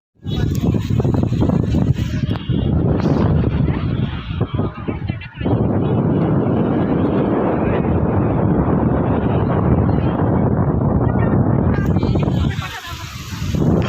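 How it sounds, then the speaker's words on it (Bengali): Strong wind buffets the microphone in a loud, continuous roar on the beach at Dhanushkodi, mixed with the rumbling surge of large sea waves, broken only by brief gusts and dips. "বাতাসের গর্জন শুনতেই পাচ্ছ তার সাথে সমুদ্রের গর্জন"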